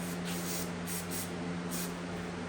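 Carburetor cleaner sprayed into the carburetor of a Honda HR215 lawnmower, several short hissing bursts over a low steady hum, close and fairly quiet.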